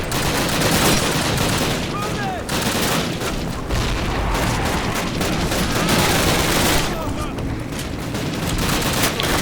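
Heavy MP40 submachine gunfire in Call of Duty, several weapons firing at once in rapid overlapping bursts, loud and continuous with brief gaps.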